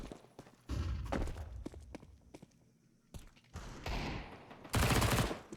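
Counter-Strike 2 gunfire during a competitive IEM Chengdu 2024 match on the Ancient map comes in several quick, fairly faint bursts of rapid shots, separated by short quieter gaps.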